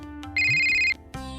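A telephone ringtone sounds in a home, a loud sustained electronic melody tone that cuts off and then restarts briefly, close and with no talk.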